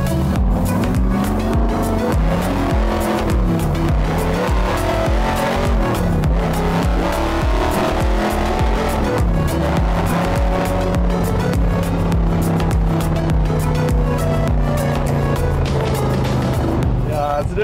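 A car speeds down the road, its engine note rising and falling through gear changes in a loud continuous drone, with people talking inside over it.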